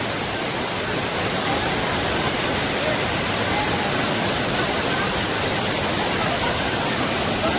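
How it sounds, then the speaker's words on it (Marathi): Dense, continuous roar of rushing water, loud and unbroken throughout, from a large waterfall nearby at Dukkar Kada, Donawade. "हा पण खूप मोठा धबधबा आहे."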